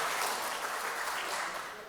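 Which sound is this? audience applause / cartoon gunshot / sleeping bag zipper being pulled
audience applause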